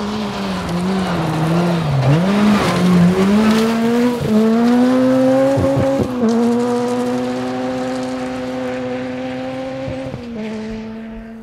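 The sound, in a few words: rally car passing at speed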